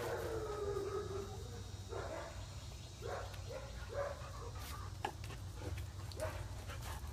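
A German Shepherd reacts to another dog with a series of short, faint barks and whines at a distance, spaced irregularly over a steady low outdoor hum.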